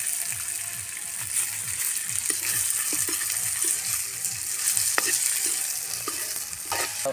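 Lechon sizzles loudly as it sautés in a pan with golden-browned garlic and onion, a steady frying hiss with repeated scraping stir strokes and small clinks throughout, close and continuous with no voices.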